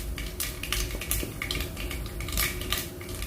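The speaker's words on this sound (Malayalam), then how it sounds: "എണ്ണ നന്നായി ചൂടായി കഴിയുമ്പോൾ ഇതിലേക്ക് 1/2 ടീസ്പൂൺ കടുക് ചേർത്തൊന്ന് പൊട്ടിച്ചെടുക്കാം" Mustard seeds splutter and pop in hot coconut oil, a dense, continuous crackle of sharp little bursts heard close up with no talking.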